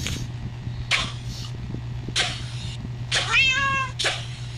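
Repeated cat meows from the video game Minecraft, several separate calls spread over a few seconds with a steady low hum underneath, fairly close and clear with no talking.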